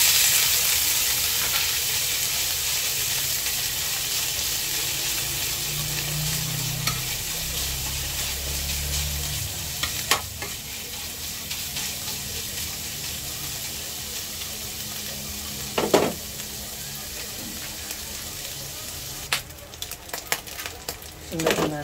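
Leftover ground meat fries in a hot pan, a continuous close sizzle with stirring scrapes and a few sharp utensil knocks.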